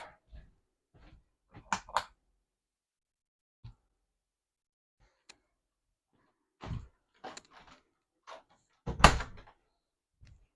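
A few sharp knocks and thuds of a small travel trailer door shutting, with quiet gaps between, fairly close by.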